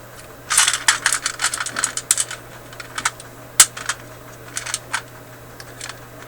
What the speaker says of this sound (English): put back these screws